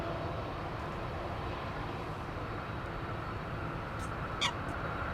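A Delta Airlines aircraft at Amsterdam Schiphol Airport gives a steady, broad jet roar that holds level throughout, with a brief voice near the end.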